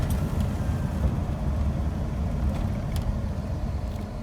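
A Ford car holding first gear gives a steady low engine rumble with road noise inside the cabin, fairly loud and even throughout, with a few faint clicks and no speech.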